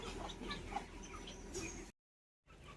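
Young chickens squabble and cluck in a busy, faint flurry of small calls and scratchy noises, broken by a brief gap of silence before the clucking resumes.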